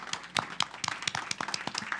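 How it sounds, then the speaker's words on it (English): Audience clapping at a city council meeting, a brief spell of sharp, separate handclaps at moderate distance, fairly sparse and quiet. "we give you a round of applause and appreciation for an awesome event"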